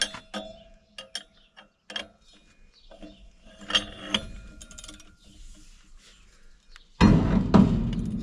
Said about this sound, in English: I'm tightening it a lot more with this pipe